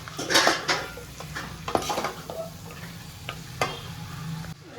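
Gongura mutton biryani mixture being stirred in a pot, with a few scraping clinks of a spoon against metal over a soft steady sizzle, close and alone without voices.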